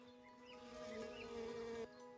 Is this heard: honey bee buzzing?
yes